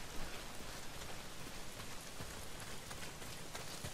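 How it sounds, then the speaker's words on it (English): Steady, dense rain pours down in the video game Days Gone, an even hiss with scattered drop patter filling the whole stretch, no voices. "Well, not if it's pissing down rain."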